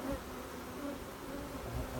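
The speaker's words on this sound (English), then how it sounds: "Shake off some of the bees here and show you." Honey bees hum steadily around an opened hive box while colonies are being combined, a dense continuous buzz close by with no pauses.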